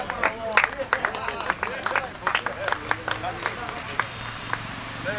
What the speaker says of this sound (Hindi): अपनी शान के लिए तो बजा दो ताली।